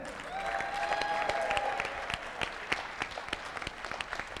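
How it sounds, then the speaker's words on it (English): Audience applause at a traders' conclave, a dense burst of clapping that swells early then thins into scattered individual claps, with a faint sustained tone from the sound system running underneath. "Please give them a big round of applause."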